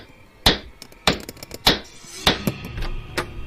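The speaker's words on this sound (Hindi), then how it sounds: "ये रहा हथौड़ा। अब खुलेगा अनन्या के कमरे का राज फाइनली" A hammer strikes hard at a door to break it open: about five sharp, loud blows at uneven intervals, each followed by small rattles and knocks, with no talking.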